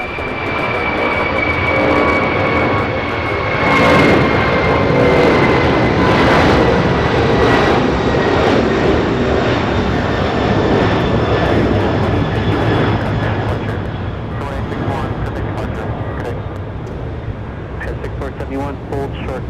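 Boeing 747 jet airliners at Los Angeles International Airport, a loud, sustained engine roar with a high whine that swells and fades over about twenty seconds, close by, with radio chatter and voices underneath.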